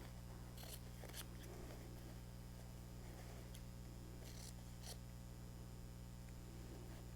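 Scissors trimming quilt fabric, several faint quick snips spaced irregularly over a constant low electrical hum.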